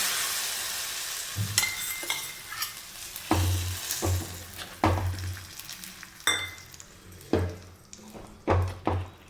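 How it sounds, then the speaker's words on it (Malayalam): Hot fried mustard-seed tempering hits a mackerel fish curry in loud sizzling bursts, mixed with clinks of a spoon against the pot as it is stirred in. "നമുക്ക് ഈ കടുക് വറുത്തത് ഈ മീൻകറിയിലേക്ക് ചേർത്ത് കൊടുക്കാം"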